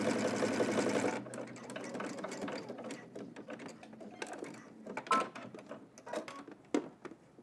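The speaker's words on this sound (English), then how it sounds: "now we're just going to head up to the machine, cross them, and then do a little zigzag or straight stitch back and forth" Sewing machine stitching elastic into the waistband of baggy sweatpants, running steadily at first, then a series of short bursts and clicks as it zigzags back and forth, close and alone.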